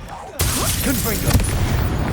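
Fiery Confringo blast spell cast in Hogwarts Legacy, bursting in with a sudden loud whoosh and crackle that sustains through the clip amid busy game effects, a second sharp hit near the end.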